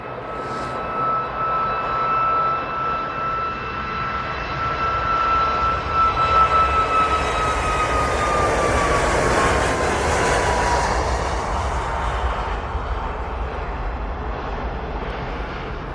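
Ryanair jet airliner bound for Dublin at Manchester Airport, a building roar with a high whine that falls in pitch as it passes, then a broad rumble that slowly fades.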